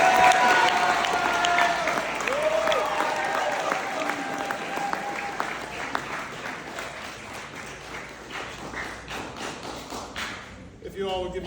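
Audience clapping at a senior thesis presentation event, a dense steady patter of many hands that runs the full length, with voices talking over it early on before the applause thins out near the end.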